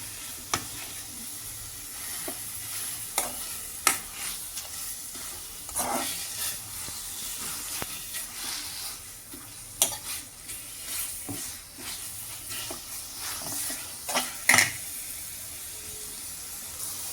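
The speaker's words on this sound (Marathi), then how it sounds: "मस्त हे पनीर तुपामध्ये थोडंसं छान परतून घ्यायचं" Paneer cubes sizzle steadily in hot ghee while a spatula scrapes and stirs them around the pan in frequent sharp strokes. The frying is close and moderately loud, with no voices.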